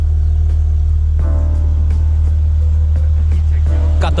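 An Acura TL Type S engine with a homemade straight pipe exhaust idles loud and close with a deep, steady rumble. A person talks over it, and a short rev rises near the end.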